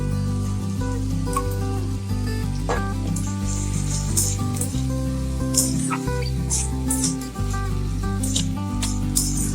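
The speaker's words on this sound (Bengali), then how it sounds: "মশলাটাকে ভালো করে কষিয়ে নিচ্ছি। এর মধ্যে দিয়ে দিচ্ছি টমেটো।" Spiced masala with tomato sizzles in a pan, a steady hiss with crackling spits and pops. A looping music bed plays loudly underneath.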